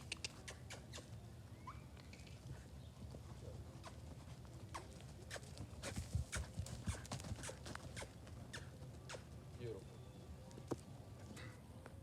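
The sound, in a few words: horse loping in an arena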